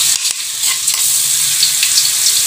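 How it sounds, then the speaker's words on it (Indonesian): Crushed garlic sautés in hot oil, giving a loud, bright, unbroken hiss and crackle with a couple of quick spatula knocks at the start, close to the pan and free of speech. "Kemudian kita tumis bawang putih tadi."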